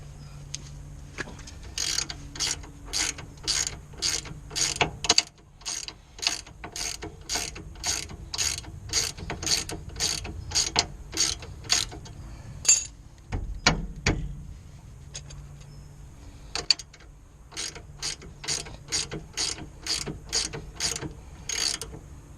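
A ratchet tightens a track rod end on a Ford Fiesta Mk6, clicking in quick sharp bursts of repeated strokes close by, with short pauses and a clunk midway, with no talk.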